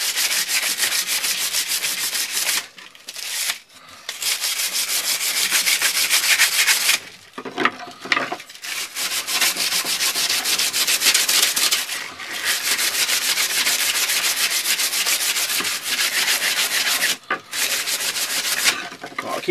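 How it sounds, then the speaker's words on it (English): Steady hand sanding of a wooden spear tip, long continuous scraping strokes, close and loud, broken by a few short pauses. "Keep sanding that a bit, then we'll come back to it."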